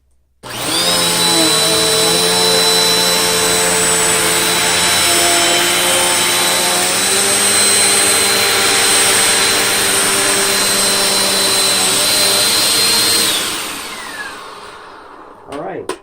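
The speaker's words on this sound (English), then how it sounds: "I think this is my least expensive vacuum" A loud Bissell Powerforce Compact upright vacuum cleaner whines steadily with a high-pitched motor tone and roaring airflow while cleaning carpet edges, then powers down near the end.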